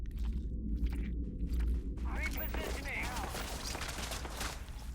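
Gunfire in the space game Starfield crackles in rough bursts over a steady low rumble, with a voice talking over the din.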